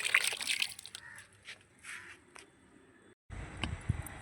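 Water used to soak coconut coir for potting sloshes and trickles in a container, with irregular drips and small splashes, close and fairly quiet, and a brief gap of silence near the end.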